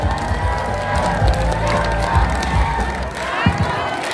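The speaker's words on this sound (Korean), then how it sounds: "여러분 큰 박수로 맞이해 주시기 바랍니다" Crowd at an outdoor political rally for a party leadership event in Gyeongnam and Busan clapping and cheering as a speaker is welcomed, a dense, loud wash of applause and shouts with voices mixed in.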